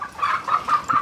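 Chicken clucking in a series of four or five short, close, moderately loud bursts, with no one talking.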